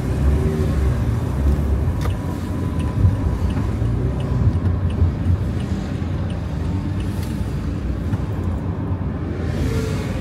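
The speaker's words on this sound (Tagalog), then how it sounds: "Grabe pala ang traffic dito pagka ganitong oras." Steady road traffic rumble is heard from inside a car in heavy congestion, a constant loud low drone with faint passing swells and no talking.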